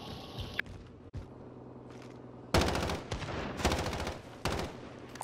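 Gunfire in Call of Duty Warzone near a radio tower: rapid automatic bursts crackle in several loud close volleys after a quieter opening with a couple of single shots.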